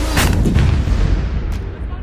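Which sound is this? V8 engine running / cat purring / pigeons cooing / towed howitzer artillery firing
towed howitzer artillery firing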